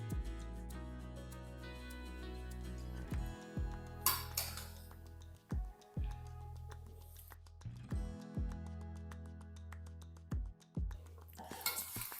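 A spoon stirring and mixing urad dal rice, with peanuts, in a metal pan, making repeated soft scrapes and several sharp metallic knocks and clinks at a quiet level, with no talk.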